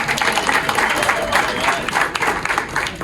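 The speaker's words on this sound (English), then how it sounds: "Let's give her a round of applause." An audience at a business team talk gives a sustained round of applause, a thick, even wash of many hands clapping at once throughout, with no break in the sound.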